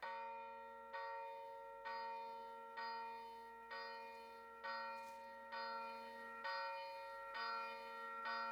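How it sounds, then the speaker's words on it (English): Video game church bells ring after Sunday service in a steady, evenly spaced series of about nine strokes, each resonant tone decaying before the next. "The bells are ringing. Sunday service must be over."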